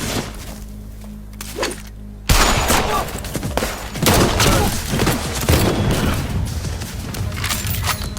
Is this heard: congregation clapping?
no